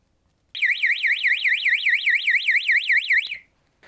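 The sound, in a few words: alarm signal indicator triggered by thermal camera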